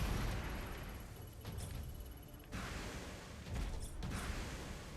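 Grenade explosions in the mech action game Hardcore Mecha: a string of muffled, rumbling blasts and bursts over constant battle noise, several close together, with no voices.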